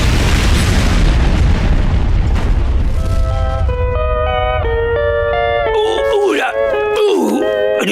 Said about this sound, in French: Le coffre-fort n'a certainement pas survécu à une telle explosion